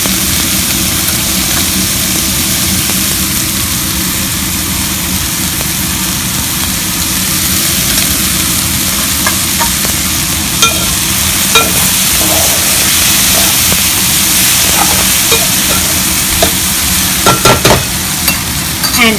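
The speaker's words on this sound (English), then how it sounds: "These need to fry and cook for at least 5 minutes before adding the rice." Vegetables for a Hyderabadi vegetable pulao fry in a pan with a loud, constant sizzling hiss and a low rumble underneath, plus a few light clinks of stirring toward the end.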